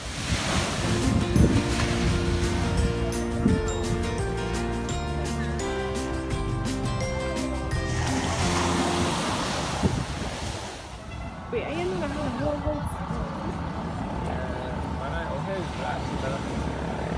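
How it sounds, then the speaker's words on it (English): Surf breaking on a beach shore, a steady loud wash of waves mixed with wind buffeting the microphone, with voices and some music-like tones early on, then a rougher roar of water after the midpoint. "just got to the beach"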